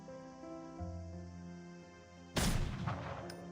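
A single sharp gunshot cracks out loudly from the video game Reverse: 1999 over a sustained musical score, with a second, fainter report trailing shortly after.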